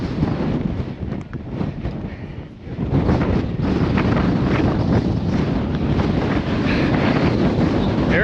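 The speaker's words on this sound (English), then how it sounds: "It is very windy. This may be the windiest peak I've ever summited." Strong, steady wind roaring across the exposed summit of Wheeler Peak, New Mexico, buffeting the microphone in loud, continuous gusts that ease briefly before surging back even harder.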